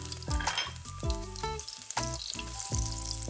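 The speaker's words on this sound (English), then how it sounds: "we'll start by cooking the garlic slices and chilies for 20 to 30 seconds, stirring constantly" Garlic slices and chilies frying in hot oil in a wok while stirred constantly for a stir-fry of green beans, loud close sizzling with repeated scraping strokes of a spatula across the metal.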